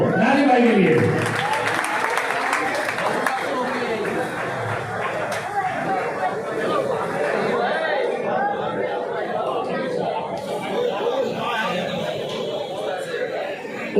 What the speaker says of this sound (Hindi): इस चीज के लिए इनका तालियां दोस्तों नाजिम भाई के लिए